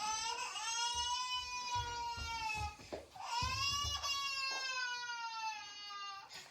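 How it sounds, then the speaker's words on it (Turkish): A toy plays a recorded baby crying sound, two long wailing bursts of rising and falling cries separated by a brief pause, fairly close and clear. "Ama bu ağlama sesi geçmedi."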